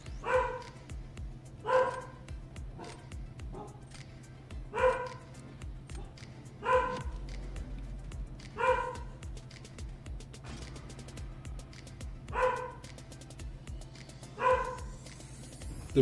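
A pet dog barks repeatedly and regularly, roughly one bark every second or two, fairly loud and insistent against a constant low household hum.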